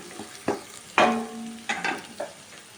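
Soya chunks (meal maker) frying in a pan for a curry, with a handful of distinct scraping stirs and spatula knocks against the pan over a faint background, close and moderately loud.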